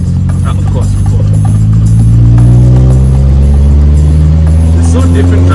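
Car engine revving hard as the driver floors it at night, a loud steady low roar with rising harmonic tones building across the span, close and dominant inside the cabin.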